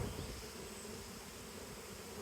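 A honey bee swarm clustered on a hive gives off a dense, steady buzzing from countless bees, continuous and fairly soft throughout with no voices.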